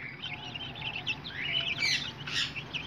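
Several young hen chicks, about twelve days old, cheep in high, thin, overlapping peeps held in a pen, with steady chirping throughout against a faint background hum.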